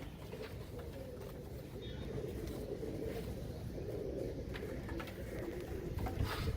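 Teddy pigeons with feathered feet coo softly amid a low, steady rumble of outdoor background noise.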